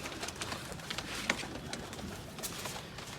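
Pigeons kept for sale coo faintly in a noisy, busy setting, giving soft scattered calls under a rustling background.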